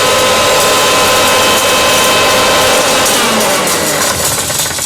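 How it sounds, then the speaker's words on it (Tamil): An electric grinder whirs loudly and steadily as it grinds an ingredient into a coarse powder, a continuous close-up roar with no pauses. "ரொம்ப நைஸாக அரைக்கணுங்கிறது இல்லை கொஞ்சம் சுமாராக அரைச்சாலே போதும்"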